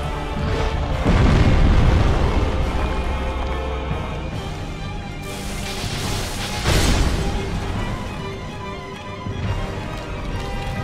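Random explosions in the Dark Souls DLC sound as heavy, sustained rumbling booms with a couple of louder bursts, loud and dense over a continuous game soundscape.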